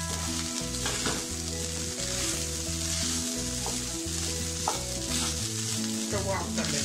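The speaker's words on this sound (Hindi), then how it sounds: "ये कुक किया हुआ राइस इसमें डालेंगे, इसे अच्छे से मिक्स कर लेंगे।" Cooked rice stirred into a coconut mixture in a hot pan, a continuous close sizzle with scraping and stirring strokes, background music playing underneath.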